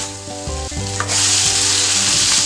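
Tomato rasam mixture for a Kerala-style sadya heating in a pan, giving a steady close sizzle and frying hiss that swells louder partway through, with faint low hum beneath and no talking.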